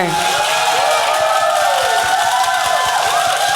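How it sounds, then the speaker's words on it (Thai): Loud crowd cheering and shouting at a live promotional event, a continuous roar of many voices with whoops and cries rising and falling, very close and filling the whole stretch. "ขอเสียงปรบมือดังๆหน่อย"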